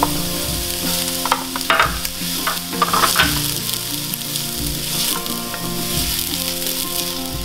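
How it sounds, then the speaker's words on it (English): Onions and garlic fry in extra virgin olive oil in a warm Dutch oven over medium heat, giving a steady close sizzle with scraping stirs and utensil clinks throughout, no talking. "I'm gonna add some extra virgin olive oil and add in our onions and our garlic."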